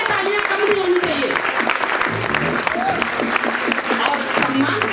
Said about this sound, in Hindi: अपनी जगह पर खड़े होकर जोरदार तालियों से स्वागत करेंगे